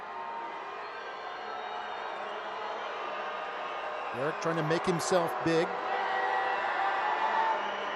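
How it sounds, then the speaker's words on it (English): Crowd at a Rio Grande Valley FC versus Tampa Bay Rowdies soccer match before a penalty kick, a steady distant stadium roar with a few louder shouts rising midway, under continuous commentary. "Crowd really getting into it."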